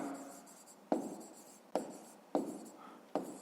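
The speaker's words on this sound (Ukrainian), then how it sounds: "Я напишу скорочено, тоді зірочка." A pen scratches out short handwritten strokes while a fifth-grade math exercise is solved, with five sharp strokes coming at roughly even intervals. Each stroke fades quickly and the sound is close and faint, with no voices.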